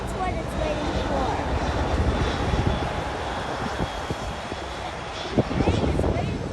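Airliner engine at Auckland Airport, a steady broadband roar with low rumble filling the whole stretch as a plane waits on the ground, with people talking over it.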